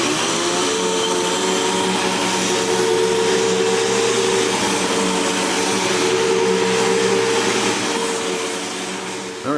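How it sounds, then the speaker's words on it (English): A vacuum cleaner runs on a rug with a steady, loud, continuous motor drone and airflow whine that holds for nearly the whole stretch, easing off slightly near the end. "Now we're going to do it with the vacuum cleaner actually cleaning the rug."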